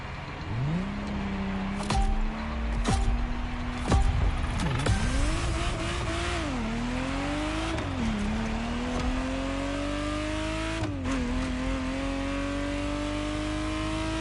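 A Ferrari Testarossa in The Crew Motorfest revs hard, its engine note climbing steadily and dropping back at each gear change, then pulling up again, loud and close with no voices.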